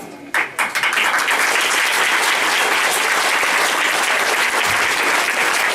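A church congregation claps hard and fast in unison, a dense, loud, sustained patter of many hands that starts abruptly and runs on without pause, with no talking.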